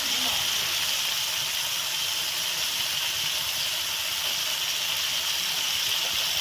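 Potatoes hit hot fried spice paste in a pan for a potato and egg curry, giving a loud, constant sizzling hiss that stays strong and even throughout.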